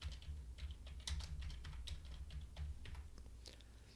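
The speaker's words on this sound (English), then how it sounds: "And I start typing." Continuous typing on a computer keyboard, a steady patter of close key clicks with uneven rhythm over a low background hum, with no talking.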